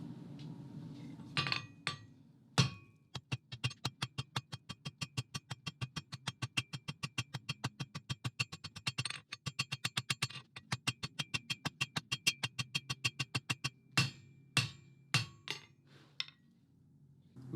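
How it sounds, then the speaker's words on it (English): Hammer blows ring out on hot steel while the tail end of a Viking longship keel piece is forged out, a long steady run of sharp, evenly spaced metallic strikes with brief pauses, close and loud with no talking. "I've cut it to length, so we can now forge the tail out on this end."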